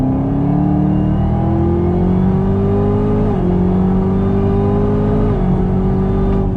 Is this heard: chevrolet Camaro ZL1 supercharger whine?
yes